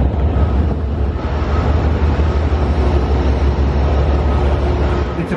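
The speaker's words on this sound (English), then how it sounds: "It's a pretty cool train with the double floors." A loud, continuous rumbling roar of an Amtrak double-decker passenger train arriving close by at a small Illinois station, steady throughout with a low mechanical drone.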